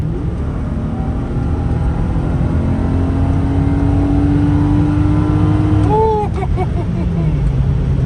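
A 1997 Toyota Aristo V300 with a JZ turbo engine, a continuous loud engine drone with a rising tone that peaks and drops off, heard up close throughout.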